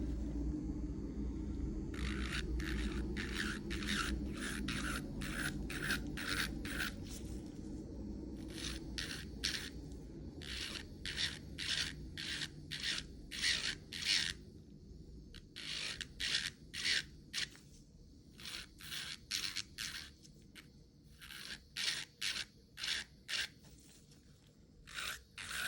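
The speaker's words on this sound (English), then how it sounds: "Taking a extra fine 5-in-1 drill bit on the lowest speed," An electric nail drill with an extra fine 5-in-1 bit at lowest speed works around fingernail cuticles, giving repeated short bursts of high buzzing grinding in quick clusters over a low background rumble.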